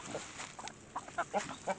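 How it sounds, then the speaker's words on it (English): Several short, soft clucks from Rhode Island chickens in quick succession over a grainy outdoor background in North Georgia, getting a little more distinct toward the end. "Here's our chickens."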